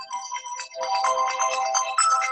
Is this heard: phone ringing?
yes